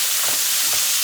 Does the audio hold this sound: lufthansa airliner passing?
no